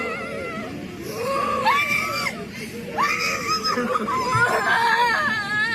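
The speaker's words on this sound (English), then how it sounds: "You heard these kids are screaming." Several children scream and wail in sustained, rising and falling high-pitched cries, loud and close, overlapping one another with crowd noise underneath.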